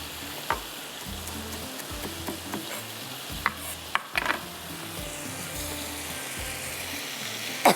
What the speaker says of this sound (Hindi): अब तेज़ आग पे इसको हम इस तरह से भूनते जाएंगे, चम्मच चलाते रहिएगा